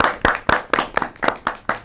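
Applause at a Happy New Year comedy show, a short run of sharp, loud, close handclaps in a steady rhythm, about four per second.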